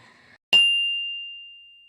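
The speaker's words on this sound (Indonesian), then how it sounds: "Suara bel dari pintu masuk terdengar, menandakan ada seseorang yang memasuki bakery itu." A single bright bell chime rings at a bakery's entrance door, struck once and then ringing out in a long, clean, slowly fading tone in an otherwise quiet room.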